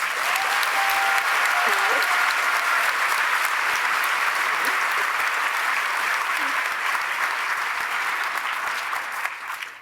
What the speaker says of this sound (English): Can I ask everyone to give them a round of applause, please?